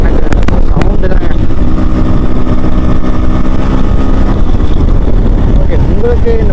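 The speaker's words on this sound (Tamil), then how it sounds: "எக்ஸாஸ்டில் வந்து வர சவுண்டு தாங்க" A Yamaha RX100 two-stroke motorcycle's exhaust gives a loud, close, steady idling burble with a few sharp blips at the start. Someone talks over it throughout.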